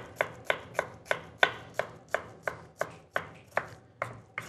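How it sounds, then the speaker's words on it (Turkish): Knife chopping small onions on a cutting board, a steady run of about fifteen crisp, evenly spaced strokes, close and clear with no talking. "Küçük küçük yani minik minik soğanımızı doğradık mı tenceremize yollayacağız."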